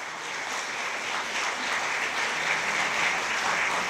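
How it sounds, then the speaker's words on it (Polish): Loud, sustained applause at a youth awards gala for a regional English competition laureate, a thick, even roar of clapping across the whole hall. "Wielkie brawa dla Małgosi"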